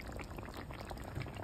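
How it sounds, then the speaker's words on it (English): A curry of gar fish and sweet-sour green mango simmers in a pot, giving a close, continuous bubbling and burbling. No voices are heard. "The fish and mangoes are cooking now."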